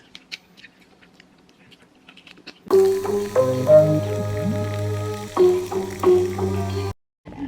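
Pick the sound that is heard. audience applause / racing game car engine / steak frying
steak frying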